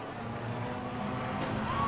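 Race cars roar around the track at a Langley Speedway enduro, a steady mid-distance engine drone that builds slightly as a car passes, with a faint voice underneath.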